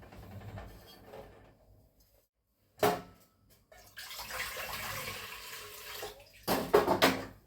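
Water pours into idli batter in a cloud kitchen in two splashing bursts separated by a pause, with a quieter running-water stretch between them.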